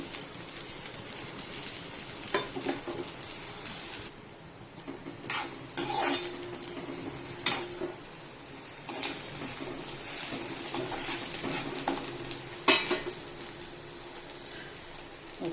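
Chopped spring onion greens stir-fried in oil with cumin seeds, a steady close sizzle broken by repeated scrapes and clinks of a spatula against the pan, with no voices.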